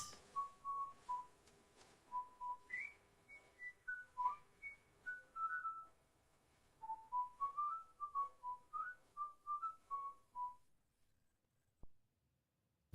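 A person whistles a lively, wandering tune alone, with short bright notes in quick phrases that rise and fall for about ten seconds, then stops and leaves near silence with one faint click.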